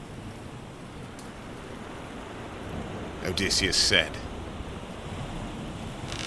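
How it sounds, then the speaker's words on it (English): Stormy sea tossing a ship, a constant broadband wash of wind, rain and surf with a brief swell, while a narrator speaks briefly over it. "Meanwhile, the storm raged on, relentless, as the ship was tossed like a toy upon the waves."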